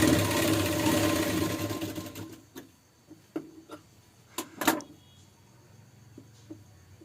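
Domestic sewing machine stitching cross belts on a blouse, running steadily for about two seconds, then stopping and leaving a few sharp clicks and light handling knocks in a quiet room.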